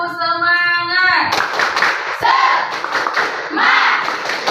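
A classroom of students does rhythmic spirit clapping, a brisk burst of many hands clapping together over chanting voices, following a short sung or called phrase.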